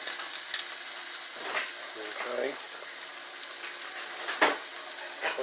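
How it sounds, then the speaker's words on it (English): Bacon and onions frying in a pan, a steady close sizzle running throughout with a few clicks and stirring scrapes, and one brief spoken word. "Once the bacon gets to frying, throw in a few onions."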